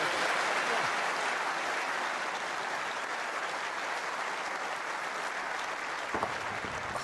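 Steady, sustained audience applause fills a snooker arena during a World Championship semi-final after a pot, dense and even throughout with no voices rising above it.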